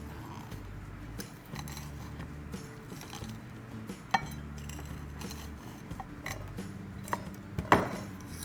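Garlic cloves crushed with a chapati rolling pin, giving scattered taps, knocks and clicks on a hard surface, with a sharper impact near the end over a faint background hum.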